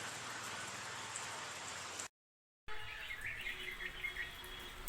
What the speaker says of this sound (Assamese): খুব বৰষুণ দিছে। অলপ অলপকৈ বৰষুণ দি আছে।